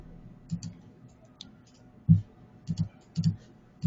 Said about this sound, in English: here you can see me clicking between the two topics